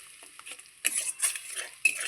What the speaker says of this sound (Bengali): এবার আমি আর একটু জল দিয়ে আবারও মশলাটা খুব সুন্দর করে কষিয়ে নেব